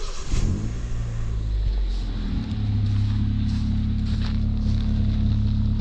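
Car engine idling with the exhaust outlet blocked off to find a leak: a steady, loud low rumble throughout, with a brief rev near the start and no talking.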